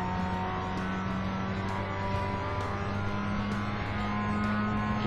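A car engine drones steadily in a racing video game. The motor holds a constant, fairly loud hum with light rhythmic ticks on top, and no talking is heard.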